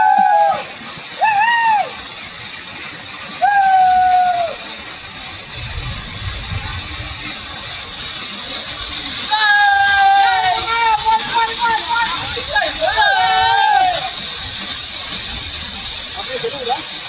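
Hidden Falls in the Kalvarayan Hills near Salem pours down in a constant hissing roar of water, with people talking loudly over it at intervals.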